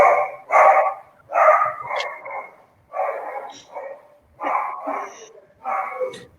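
A small dog barks repeatedly in evenly spaced bursts of one or two yappy barks, loud and close, with quiet gaps between them.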